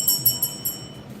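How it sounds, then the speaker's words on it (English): A small hand bell rung during a live rock sale and auction, giving several quick bright rings with a shimmering high tone over a low room hum. "I'm going to give you a bell for that."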